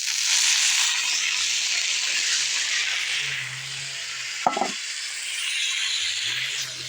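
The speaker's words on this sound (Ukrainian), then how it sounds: "хвилин три смажу квасольку" Steady broadband sizzling of green beans frying in hot oil, continuous and close, with a brief clatter near the middle.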